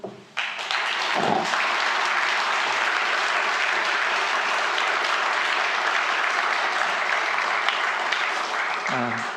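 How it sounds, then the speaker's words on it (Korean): Steady, dense applause from a church congregation during an elder ordination service in Frankfurt, sustained and loud for several seconds after a brief spoken cue. "네, 박수로."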